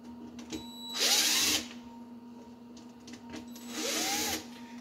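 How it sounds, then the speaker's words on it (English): A worn DeWalt angle grinder spins up twice in a mobile home trailer floor renovation, each burst a bright high-pitched whine lasting about half a second over a steady electrical hum, close and fairly loud. "I've abused this angle grinder."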